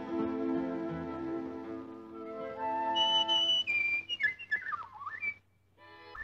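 A cartoon character's tonal whistled melody with sliding pitch rises over background music, then ends in a quick warbling run before fading.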